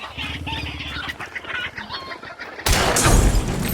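Chickens cluck in a video game, a run of quick close clucks and squawks that then give way to a sudden loud burst of noise.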